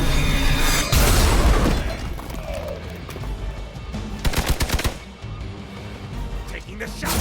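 Gunfire in Marvel's Midnight Suns, a loud blast followed by a rapid burst of shots midway, with game effects and talk mixed in.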